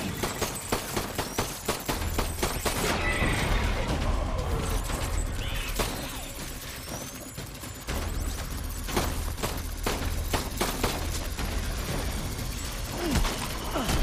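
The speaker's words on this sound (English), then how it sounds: "it feels pretty good to shoot in this game" Rapid bursts of gunfire from the video game Death Stranding, rattling volleys and single shots with clanking mechanical sounds and impacts, loud and dense over about fourteen seconds.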